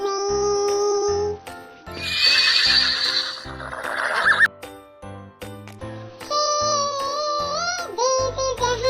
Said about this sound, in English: Horse neigh.